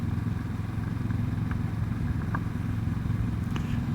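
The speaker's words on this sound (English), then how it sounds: "Look at this, a Kawasaki Z650RS doing a little bit of off-roading" A Kawasaki Z650RS motorcycle rides off-road, its engine giving a steady, continuous mid-pitched drone with a low throbbing rumble, close and even throughout, with occasional faint clatter over the top.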